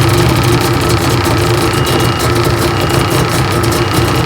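A rebuilt Yamaha GP1300R personal watercraft engine, restored after ethanol damage, runs steadily with a loud, dense, rough drone and vibration that stays constant and close, with no talking.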